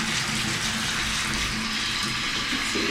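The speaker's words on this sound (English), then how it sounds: "Shower head. Let's turn this on." A hotel shower at the New York-New York Hotel and Casino runs steadily, a constant loud hiss of spraying water falling without a break for the whole stretch, with no voices over it.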